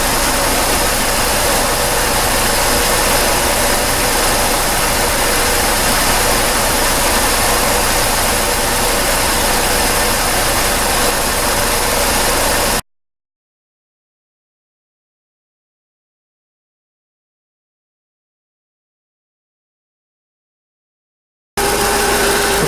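A Mercedes CLK engine idles steadily while warming up after a coolant top-up, a constant close mechanical hum that cuts out abruptly partway through, then returns for the last second.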